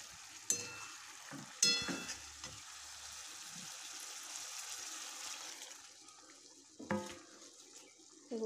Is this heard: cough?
no